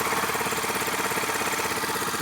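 A Yamaha YBR 125 motorcycle engine idling after an oil change, a steady close-up putter with fast, even firing pulses and no voices.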